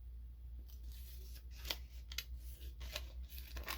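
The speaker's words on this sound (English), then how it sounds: "I'll just cut it. And then we'll just cut the bottom off here." Scissors snip through paper while shaker journal cards are made: several crisp cuts in quick succession over a low steady hum, close and quiet, with no one speaking.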